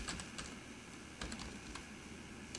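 Keys on a computer keyboard clatter in short bursts of quick taps with brief pauses between, close and fairly faint over a steady background hum.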